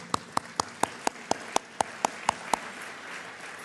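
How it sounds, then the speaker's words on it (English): Applause at a chamber of commerce awards luncheon, heard as an evenly spaced run of about ten sharp claps, moderately close, that stops abruptly partway through. "I'd just like to give you an applause for that"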